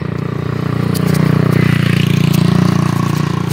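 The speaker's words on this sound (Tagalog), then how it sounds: "Gilid ka, may motor." Motorcycle engine passing by, a close, throbbing mid-pitched motor that swells louder in the middle and then eases off, with faint clattering around it.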